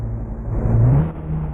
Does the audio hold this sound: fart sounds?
no